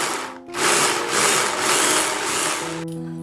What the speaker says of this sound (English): again in the electric chopper, I am going to add the onion so that it will be finely chopped